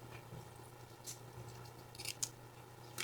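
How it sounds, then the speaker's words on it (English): Scissors snipping paper shapes for a flower layout craft, a few soft, quick cuts spaced irregularly, faint and close over a low steady hum. "I'm just simply going to round it and cut off those little points."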